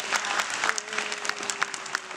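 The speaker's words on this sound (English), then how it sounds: "help me give these two ladies a round of applause this morning" Applause from an audience at a morning staff event, even clapping at moderate volume with a faint tone running underneath.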